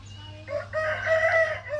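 A rooster crows once, close and clear, in a chicken pen in rural Thailand, with soft clucking from hens and a low background hum.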